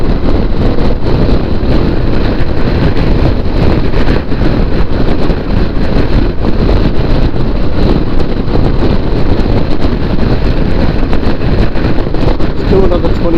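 Strong wind roars over the microphone during a motorcycle ride on a windy Tasmanian road, a loud, constant buffeting rush mixed with engine and road rumble that persists unbroken throughout.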